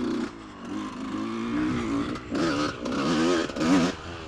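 A motocross bike engine putters unevenly at low revs nearby, rising and falling with rough, sputtering bursts.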